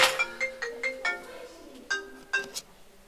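Telephone ringtone playing a bright electronic melody of short repeated tones, clear and close, in two bursts with a short gap between them.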